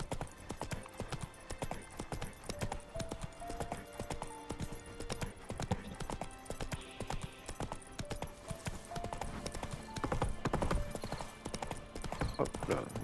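Horse hooves clip-clop in The Witcher 3, a steady, continuous rhythm of hoofbeats throughout with game music playing underneath.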